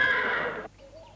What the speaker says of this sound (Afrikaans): Ag, is 'n perd.